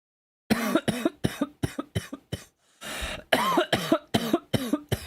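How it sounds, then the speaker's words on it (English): A person coughs in two harsh bouts, about six sharp coughs, a short pause, then five or six more, close and loud with no speech. "Excuse me, delayed cough."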